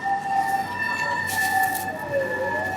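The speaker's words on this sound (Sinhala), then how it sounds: "ඇම්බියුලන්ස් එක යනවා" An ambulance siren wails near a self-service car wash in Japan, its steady two-tone call holding then bending slightly in pitch as the vehicle passes.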